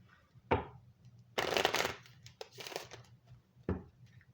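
Life Purpose Oracle cards being shuffled by hand, several crisp riffling bursts of card flutter close up, separated by quieter handling pauses.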